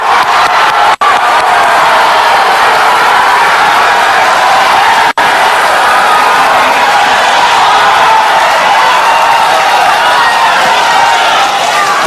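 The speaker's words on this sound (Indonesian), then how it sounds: "Silahkan tepuk tangan." Political debate audience in Indonesia cheering and applauding loudly and steadily throughout, a dense crowd roar with clapping and whoops, two brief sharp dropouts interrupting it.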